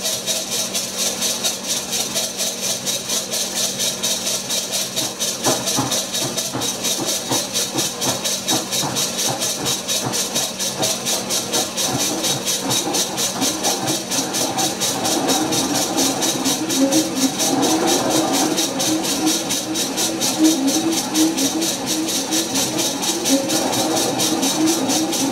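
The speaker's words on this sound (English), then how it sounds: "We'll do another cut and we'll show you the hand wheel operation on this and the engagement." A powered lathe slotter making a cut runs steadily, giving a continuous close mechanical hum and hiss with a regular rapid ticking rhythm, loud and unbroken throughout with no talk.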